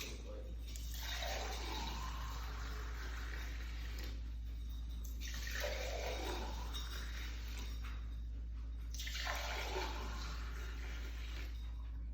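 Water pours into honey iced tea concentrate in three separate long pours, each a rushing, splashing stream that fades out, with faint clinks between.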